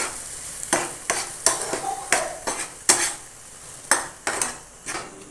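Scrambled egg podimas being stirred in a pan, rhythmic spatula scrapes and knocks against the metal about once a second over a faint sizzle, close up.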